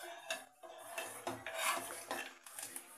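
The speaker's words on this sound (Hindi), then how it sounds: "अब चावलों को अच्छे से मिक्स कर देते हैं" Samak rice being stirred and mixed in a pot for a Navratri fasting kheer, with repeated scraping, rasping strokes of a spoon against metal, close and fairly loud, no talking.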